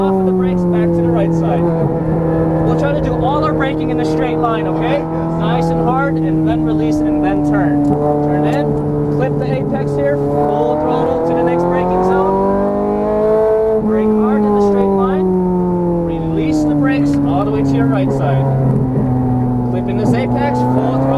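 A Ferrari 430 Scuderia engine revs hard on a race track, its loud, strongly tonal roar rising and falling in pitch through acceleration and lifts, while an instructor keeps talking over it.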